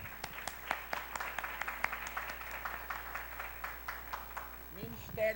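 A church congregation claps during a worship service, scattered individual claps and light applause ringing in a reverberant hall, fairly faint, before a voice speaks at the end.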